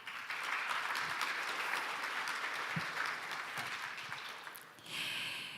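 An audience at an AI symposium opening ceremony claps steadily in a sustained round of applause at moderate distance, which fades slightly and then swells again near the end.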